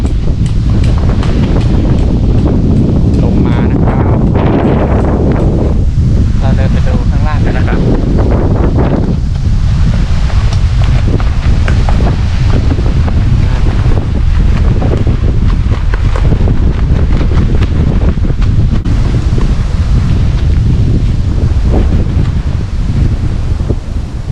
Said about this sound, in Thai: ลมนะครับแรงมากเลยนะครับทุกคน